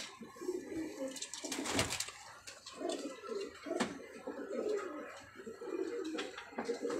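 Rampuri Patta pigeons coo in soft, repeated throaty bursts, close by, with a few sharper sounds among the calls and no one talking.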